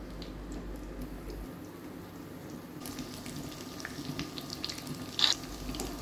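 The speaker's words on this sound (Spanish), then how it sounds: "colocamos el ajo en el aceite caliente y lo ponemos a freír" Garlic fries in hot oil in a pan on a stovetop, a faint, steady sizzle with scattered small crackles and one brief, sharper pop near the end.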